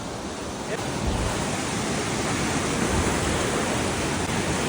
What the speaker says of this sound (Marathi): खूप फ्लोने पाणी जात आहे फास्ट, खूप स्पीडला.